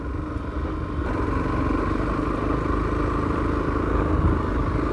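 A steady, close motorcycle engine, an Excel bike, drones continuously at an even idle with a rough, clattery tone and no talk over it.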